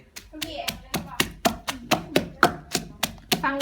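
Som tam papaya salad with crab and fermented fish being pounded with a pestle in a mortar: a steady run of about a dozen sharp, close thuds at an even rhythm, with people talking underneath.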